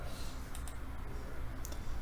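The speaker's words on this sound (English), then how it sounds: "start typing in Tim's name" A few soft, quick computer keyboard clicks tap out over a faint, steady background hum.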